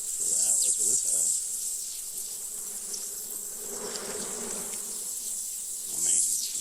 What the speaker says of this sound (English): all this bee action in here could be robbing from other hives